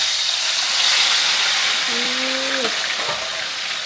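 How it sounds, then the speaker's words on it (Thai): Pork belly frying in fish sauce sizzles with a loud, steady, hissing crackle throughout, and a brief whistling tone rises over it near the middle. "อันนี้หมู สามชั้นทอดน้ำปลา"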